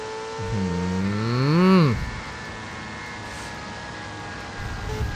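A car engine in a video game revs up with a rising, then falling whine over about two seconds, then settles into a steady drone beneath a faint background hum.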